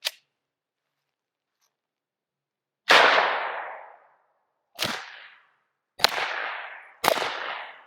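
Suppressed 9mm pistol firing 147-grain rounds through a small four-baffle JK 105 CCX suppressor, five sharp cracks: one at the start, then four spaced shots with short decaying tails, loud and close with no talking.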